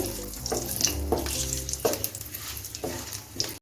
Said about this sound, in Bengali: এখন ফোড়নটা আমি একটু ভেজে নিচ্ছি